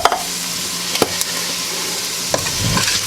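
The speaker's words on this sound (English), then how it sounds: "I'm just gonna get it stirred up there." Canned chili and RoTel stirred into chili mac in a pot, with a few scraping spoon strokes and a soft, steady cooking hiss throughout.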